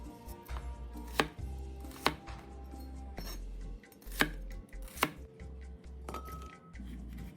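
A knife chops a whole onion into large chunks on a cutting board, with sharp, separate thuds landing every second or so against a quiet kitchen hum, with no talking.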